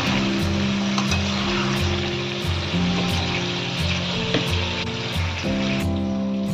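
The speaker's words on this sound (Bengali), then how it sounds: "ভালো করে আলুটাকে আগে একটু ভেজে নেব।" New potatoes frying in a pan for a Bengali aloo dum, with a steady, loud sizzle running throughout, overlaid by a repeating tonal music bed and occasional faint clinks.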